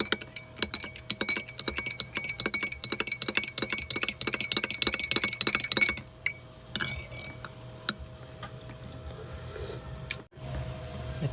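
A spoon clinks rapidly against a glass while a lemony drink is stirred, a fast run of bright taps for about six seconds before the clinking stops and only faint handling noise remains.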